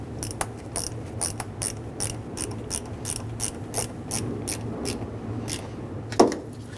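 A ratchet clicks in quick, even bursts while a ground terminal bolt is tightened on a Toyota Tundra, close up, then ends with a single sharper knock.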